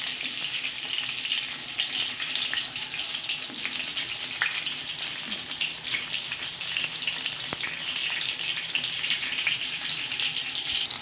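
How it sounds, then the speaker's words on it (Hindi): Baby eggplants fry in oil in a pan for an achari baingan dish, a loud, steady, crackling sizzle that runs unbroken with faint stirring and clinks mixed in. "बैंगनों को हमने हल्का हल्का फ्राई करना है।"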